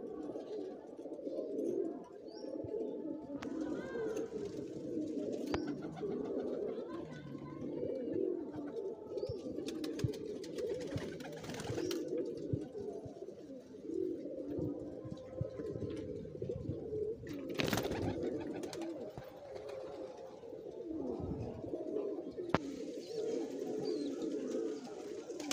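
Gola bloodline pigeons coo continuously in a loft, a dense overlapping chorus of low throaty calls that runs throughout without pause.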